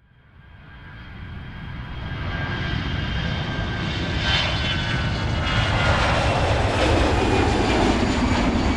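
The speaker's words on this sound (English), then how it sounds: "737 coming in on the approach from Nashville veers off course at the last minute and comes dangerously close to the control tower." A Boeing 737 jet on approach to LaGuardia swells from faint to a loud, sustained roar as it passes low and close by the control tower, with no voices.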